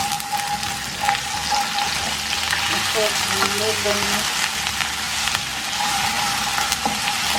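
Ginger garlic paste frying with browned onions and cumin in a hot pan for a vegetable curry, a steady close sizzle throughout with faint stirring, and a voice speaks briefly over it.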